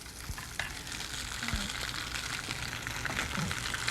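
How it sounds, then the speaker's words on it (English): Butter sizzles steadily in a hot frying pan alongside food just placed in it for pasta, a continuous bright crackle with a few soft clinks, close and fairly loud with no talking. "I also like to add a little bit of butter. This will help give me some nice color."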